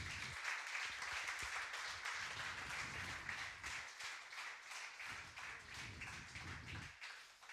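A church congregation claps together during a sermon, rhythmic and fairly distant, with a pulsing beat in unison that swells and dips across several seconds.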